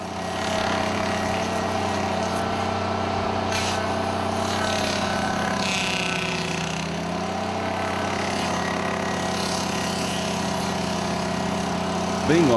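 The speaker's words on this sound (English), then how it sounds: "the Dingo Stump Grinder hangs over the stump and swings back and forth." A Dingo mini-digger stump grinder runs steadily, its engine droning loud and continuous at close range with a faint shifting whine as the cutter head swings back and forth over a stump, no speech.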